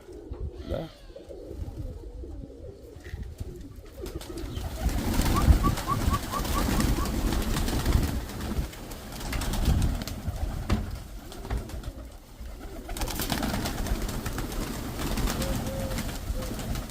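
Pigeons coo in soft repeated murmurs over a busy outdoor background with rustling and thumps, continuing for a long stretch without speech.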